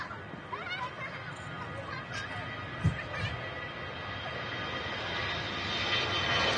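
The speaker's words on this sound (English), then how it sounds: "Plenty of planes pinging up on the ground, ready to start their taxi." Aircraft engines at Manchester Airport, with planes on the ground waiting to taxi, give a steady broadband roar that builds slightly toward the end, heard from a distance with a brief thump partway through.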